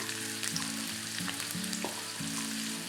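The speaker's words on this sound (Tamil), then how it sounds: "இதில் வந்து நீட்டமாக நறுக்குன வெங்காயம் சேர்த்துக்கிறேன்." Steady sizzling and crackling of sliced onions frying in hot oil, close and continuous, with a faint stirring scrape now and then.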